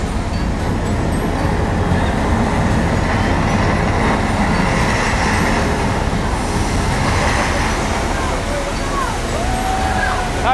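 A metro train rumbles steadily through a San Francisco subway station film set, a loud continuous roar of wheels and cars with voices talking over it.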